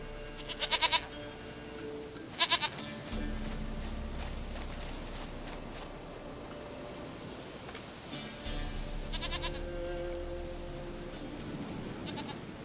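Goat bleats in The Witcher 3, several short bursts near the start and again later, over a steady low game ambience with a horse's hooves and other background sounds.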